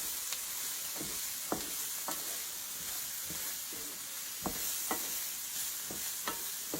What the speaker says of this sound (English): I'm going to put about a 1/4 cup of flour into my sauteed vegetables